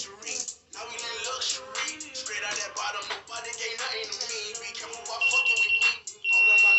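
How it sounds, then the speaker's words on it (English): An alarm going off indoors, a loud beeping tone that sounds in the last second and a half, following a stretch of loud talking and background noise. "let me cut the alarm off"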